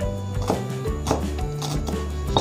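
Knife chopping coriander roots on a cutting board, several firm, evenly spaced cuts close up over steady background music.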